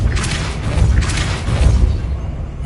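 A Depulso spell cast in Hogwarts Legacy lands as a pair of heavy, booming magical blasts, each a deep thud with a bright crackling burst over it, close and loud.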